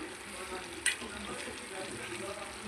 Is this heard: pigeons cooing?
no